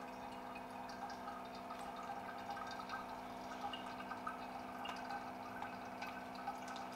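Water streams steadily from a SANS reverse osmosis water purifier, a constant low running hum with faint drips over it, and nobody speaks.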